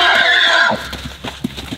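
A horse, a wild horse meeting another, gives a loud, close neigh that fades out, followed by a few soft, scattered hoof clops.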